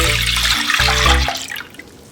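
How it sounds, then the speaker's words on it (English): Soy drink poured into a cleaned cooking pot, a steady close liquid stream splashing for about a second and a half before trailing off, with no talking. "Now pour the soy drink into a cleaned pot."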